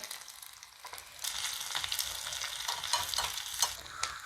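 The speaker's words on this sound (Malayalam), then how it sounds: "എണ്ണയിലേക്ക് കുറച്ച് ചെറിയുള്ളി ഇട്ട് കൊടുക്കാവേ" Small shallots frying in hot oil for a Kerala roasted-coconut curry, a steady crackling sizzle that swells after the first second and carries on at close range with sharp spatters popping through it.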